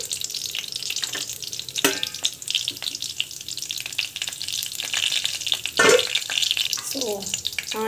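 Mustard seeds fry in hot oil in a pan for a South Indian dish, giving a close, continuous sizzle dotted with sharp crackles and pops throughout.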